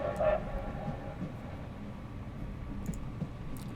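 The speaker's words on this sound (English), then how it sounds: "The train is slowing." Train rumble in the narrative video game The Lion's Song, a steady low rolling rumble with a brief tonal squeal near the start, continuous and moderately loud with no speech.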